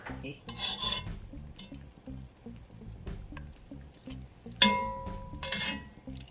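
A pot roast is turned over in a Dutch oven, giving wet squishing and scraping with low rhythmic knocks, then a sharp metallic clank of utensil on pot partway through, followed by more sloshing scrapes.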